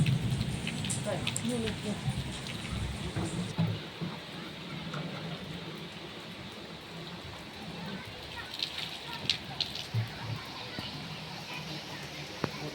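The first rain of the year falls steadily on an open rooftop, a dense, even hiss of drops with sharper patters now and then, while a voice talks quietly nearby through the downpour.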